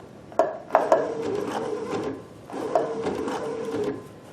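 A Baby Lock Sashiko sewing machine stitching, its steady mechanical whir running in two bursts separated by a short pause, with sharp clicks as each run starts, close and fairly loud with no talking.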